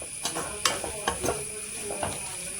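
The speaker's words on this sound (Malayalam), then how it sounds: "തക്കാളി ഇട്ടിട്ട് നമുക്ക് നന്നായി ഒന്ന് ഇളക്കി കൊടുക്കാം." Chopped tomatoes stirred in a frying pan for a home-style chicken curry, with a spoon scraping and clinking against the pan in a few close strokes over a steady sizzle.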